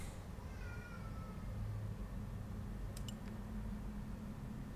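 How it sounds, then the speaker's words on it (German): A cat meows faintly a couple of times over a low, steady background hum, the calls thin and distant rather than close. "Ich glaube, das ist meine Katze."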